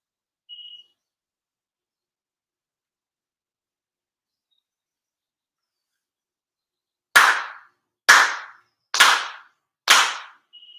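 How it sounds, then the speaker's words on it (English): Four sharp ritual hand claps at a Shinto monthly ceremony, evenly spaced about a second apart, loud and crisp in an otherwise silent room, preceded by a brief faint tone. "4 sincere claps"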